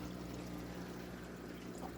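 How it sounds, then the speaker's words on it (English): A small motor bubbles air into the water of a classroom trout tank, giving a close, continuous gurgle over a low, steady hum. "We simulate that by simply bubbling it in with a little motor."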